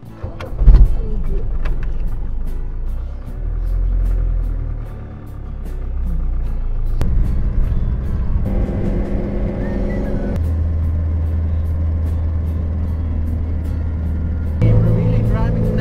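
A Mercedes campervan cruising at 90 on a road in the Netherlands, heard from inside as a loud, steady engine and road drone whose pitch shifts now and then, with voices talking over it.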